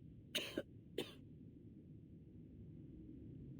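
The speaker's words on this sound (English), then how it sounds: "And now I cough and splutter just like it does." A character in the video game Reverse: 1999 coughs: a quick double cough followed by a single sharp cough, close and clear against a faint low background hum.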